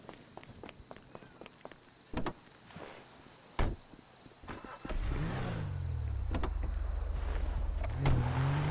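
A GTA 5 car at Paleto Bay: a few footsteps and sharp door thumps, then the engine starts and revs, settling into a steady loud drone with rising pitch as it pulls away; no speech.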